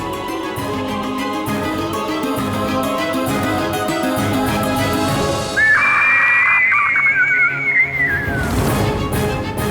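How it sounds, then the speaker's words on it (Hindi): A shrill, piercing red-wattled lapwing screech rings out over a busy background, a sharp falling cry lasting a couple of seconds, fairly close and loud. "ये तो टिटहरी के चीखने की ध्वनि है।"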